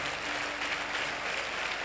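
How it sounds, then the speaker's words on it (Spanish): A church congregation at an evening prayer service applauds in praise, a dense, steady clatter of many hands clapping throughout, with no speech over it. "Dale un aplauso al Señor Jesús"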